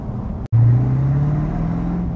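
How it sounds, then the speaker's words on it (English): A 1964 Corvette Stingray restomod with a freshly rebuilt 327 V8 and Borla exhaust starts up after a brief silence, settling into a loud, deep, steady rumble close by. "the Borla exhaust sounds really, really good on this car"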